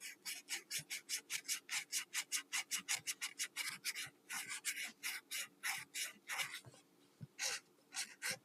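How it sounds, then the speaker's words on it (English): Fine sandpaper rubbed over a wooden walking cane in quick, steady back-and-forth strokes, a close, dry rasping with only brief pauses between runs. "then you take out the finer sandpaper in order to smooth it out"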